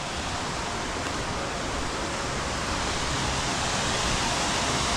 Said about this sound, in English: This is definitely multi-tiered waterfall.